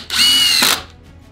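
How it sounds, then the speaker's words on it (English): Milwaukee cordless power drill driving a screw in one short, loud, high-pitched whir lasting about half a second, close up with a slight pitch change as the screw seats. "I mean, it does really drive a screw in."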